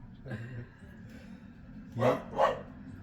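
Two short dog barks close together near the end, following a quieter low vocal sound, over a steady background hum, beside a motorhome.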